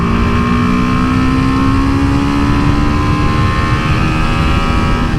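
A BMW G310GS single-cylinder motorcycle engine revs hard while accelerating in third gear, a loud, steady drone with a slowly rising pitch that holds for the whole stretch, with no voices.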